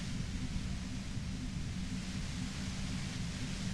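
Dense, steady white-noise static from the Disco Elysium video game, a continuous hiss with a rumbling low end, constant and unbroken throughout.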